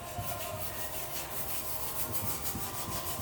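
Wet sandpaper rubbed by hand over a chipped spot on a porcelain tub makes a steady, close, rasping scrub with quick back-and-forth strokes and no pauses.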